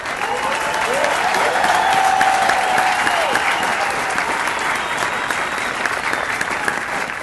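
Family members at a Basic Military Graduation ceremony applaud the graduating 433rd Training Squadron airmen, a loud, dense crowd clapping that holds steady throughout.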